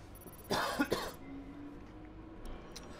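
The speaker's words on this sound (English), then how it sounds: "I'm not ill, but I'm coughing a bit" A man at a microphone coughs a couple of times in quick, sharp bursts, close and fairly loud, followed by quiet room tone.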